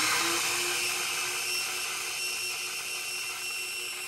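Air rushes turbulently through a ported cylinder head on a flow bench, a loud, steady, choppy broadband roar that holds for the whole stretch without any talk.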